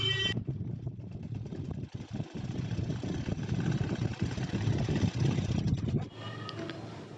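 A sewing machine stitches a blouse with a continuous mechanical motor whir and rapid needle clatter, running loud and close with brief pauses in its rhythm before stopping.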